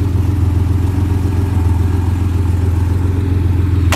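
A 1987 Porsche 930 Turbo engine runs steadily at a close, loud idle, a constant low throbbing drone that never changes pitch, with a brief sharp click right at the end.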